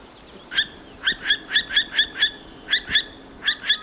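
A female owl at an artificial nest box in a Norwegian forest, brooding chicks, gives sharp, high, close-up calls in quick repeated bursts, about a dozen in a few seconds.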